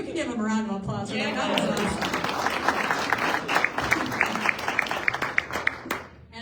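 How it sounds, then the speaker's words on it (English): A crowd at a celebration of private property rights victories in South Dakota breaks into sustained applause with sharp individual claps, starting under a voice and continuing loud and steady. "You can give him a round of applause for that."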